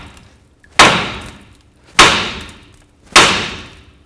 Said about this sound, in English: now we're going to use our hammer and we're going to hit right along here on the knuckle